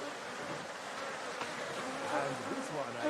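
Bees buzz steadily in the ambient soundscape of the city-building game Anno 1800, a continuous droning hum that holds level for the whole stretch with no break.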